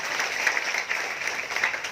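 Church or seminar audience applauding together, a dense, steady clatter of many hands clapping at moderate volume, without speech.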